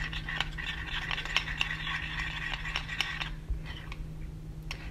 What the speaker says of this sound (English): And mix it really well now.